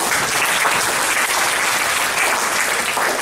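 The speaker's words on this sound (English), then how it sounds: "So please salute them and give applause to the committee." A seminar audience applauds the organizing committee with dense, sustained clapping that fills the room, loud and continuous throughout without a break.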